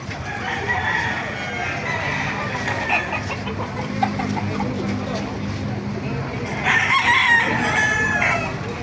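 Many chickens cluck and roosters crow repeatedly at a busy, noisy poultry market in Baliuag, Bulacan, Philippines, with a loud crow near the end and people talking in the background.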